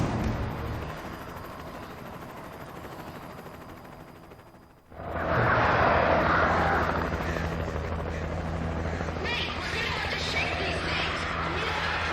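A video game rescue helicopter's rotor drone fills the scene, dropping briefly before a loud surge of engine roar and wind that continues to the end.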